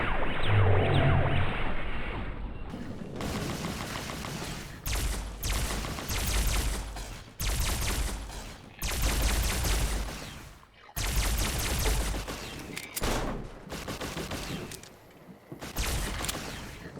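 Sustained automatic gunfire from the player's weapon in Fallout New California, loud bursts of rapid fire lasting a second or two each, broken by brief gaps, with no talk over them.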